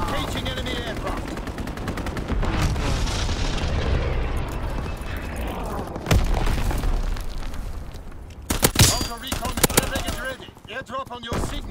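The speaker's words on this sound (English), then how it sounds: "Dropping Fritz X bomb" A Fritz X guided bomb strikes in Call of Duty: WWII amid steady battlefield noise, with rattling gunfire and a heavy blast boom near the midpoint followed by a second burst of loud impacts.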